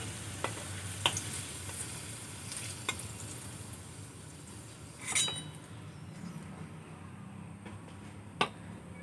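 Fried potatoes crackle gently in hot oil as they are lifted out, with soft sizzling throughout and a few metallic clinks and scrapes of a utensil against the pan; fairly quiet, no talking.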